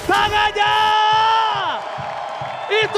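A velodrome arena crowd at an MPL Indonesia esports playoff roars with sustained cheering, whoops and yells, loud and dense, with a few faint claps.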